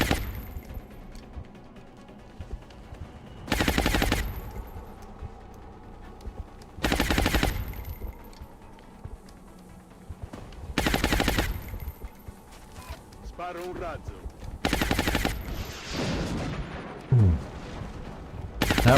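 Rockets fired in XCOM Long War on Impossible difficulty: five loud, broadband blasts, each lasting under a second, spaced about three to four seconds apart over a low ambient battle background, with no talking.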